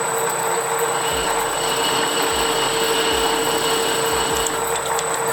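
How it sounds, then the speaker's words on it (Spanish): A countersink bit cuts a drilled hole in a revolver drum spinning on a lathe. The machine gives off a steady bright whine with faint low scraping thumps, loud and continuous, with no voices. "Ahora con el avellanador voy a dejar ya avellanado este taladro."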